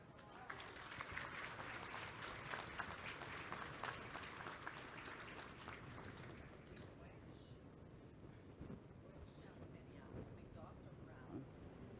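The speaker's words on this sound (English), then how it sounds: "So let's give her another big round of applause." Audience applause at a national gathering on unmarked burials in Winnipeg, a sustained round of clapping filling the room that fades after about seven seconds into quieter room sound and voices.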